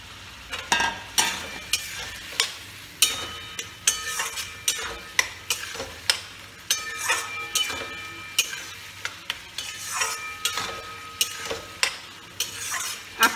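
Potatoes hit hot oil in a pan for a snakehead fish curry and sizzle steadily, while a spatula stirs and scrapes in a regular clicking rhythm close by.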